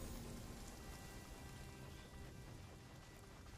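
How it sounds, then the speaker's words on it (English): Rain and a thunderstorm in the video game Runescape: Dragonwilds, a dense steady hiss of rainfall on surfaces with a faint low rumble beneath, constant and unbroken. "God, not the rain, not the thunderstorms."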